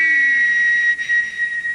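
A wet steam locomotive whistle sounds a steady, high-pitched note close and loud, holding one tone with a brief dip partway through.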